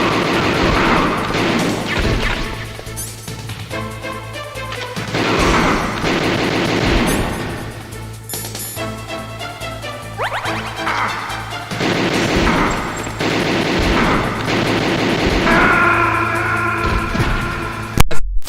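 Gunfire in the game Metal Gear Solid, heard as a dense, loud, continuous stretch of repeated shots and impacts mixed with game sound effects, ending in a few sharper hits.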